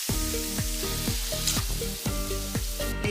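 Hot butter tempering with garlic, cumin and chilies is poured into cooked mustard greens, sizzling loudly and close with rapid crackling bursts and steady frying hiss.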